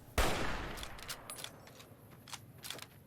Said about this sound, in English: I just shoot the gun out of your hand?